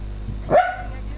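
A sleeping dog lets out a single short, muffled bark while dreaming, close and fairly loud over a low room rumble.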